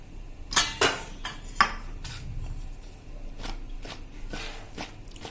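Okra pieces are tossed with gram flour in a dish, making faint clinks, scrapes and soft clatters of a utensil against the dish in irregular bursts, with no talk.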